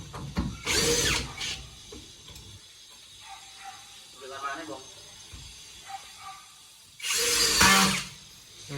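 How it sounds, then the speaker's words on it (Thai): A power drill bores into wood for a cabinet in two loud whirring bursts, one near the start and one near the end, with quieter handling noises and faint voices between them. "แล้วเจาะ"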